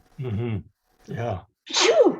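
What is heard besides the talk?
sneeze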